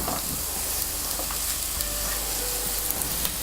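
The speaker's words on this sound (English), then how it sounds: "you want to fry the onions on medium heat so that they become golden" Chopped onions sizzle steadily in olive oil in a medium pan over medium heat, a dense, continuous crackle with light popping spits, close and even throughout with no voices.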